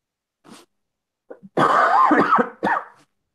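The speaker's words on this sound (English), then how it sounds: "Sorry, I'm still coughing." Several coughs and throat-clearing sounds, a few faint short ones followed by a louder, harsher burst and one final cough, close to the microphone.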